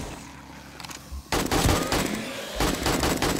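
Heavy gunfire from big guns in 7 Days to Die erupts after a quieter opening, a sustained loud barrage of rapid shots that briefly eases and then surges again near the end.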